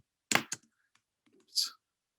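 A few quick keystrokes on a computer keyboard, two close clicks then one more a second later, soft and near in a quiet room.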